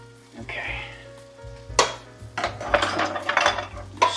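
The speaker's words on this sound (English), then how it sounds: "Stir these around." Food sizzling and frying in a pan while being stirred, with scraping and clinking of utensil against cookware in irregular bursts, close up over a low hum.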